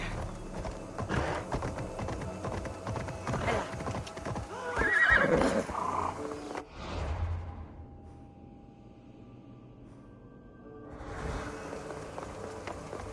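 Horse hooves clip-clop at a gallop in Assassin's Creed Odyssey, with a whinny partway through, loud and close over a busy game soundscape that drops to near quiet before the hoofbeats return.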